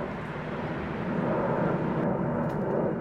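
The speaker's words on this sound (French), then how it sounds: "une commune qui est survolée par des avions, les avions de Paris-Charles de Gaulle" Airplanes from Paris-Charles de Gaulle pass over Saint-Brice-sous-Forêt in the Val d'Oise, giving a distant, continuous low rumble of aircraft noise with no speech.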